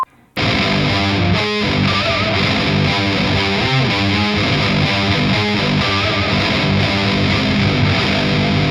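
Electric guitar played through the octave effect of a Valeton GP200 LT multi-effects unit with the low octave turned up, a loud, thick sustained riff with added low and high octave tones.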